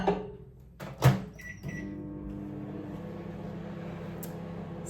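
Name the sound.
microwave oven running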